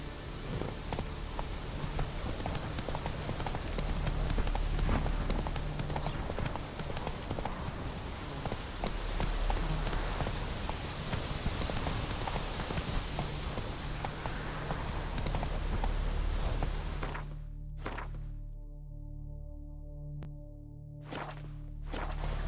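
Roach the horse's hooves clip-clop in a steady, rapid rhythm in The Witcher 3, loud and close over a low ambient bed, ending with a few sparse thuds near the end.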